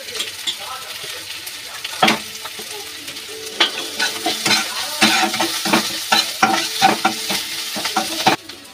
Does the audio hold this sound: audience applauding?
no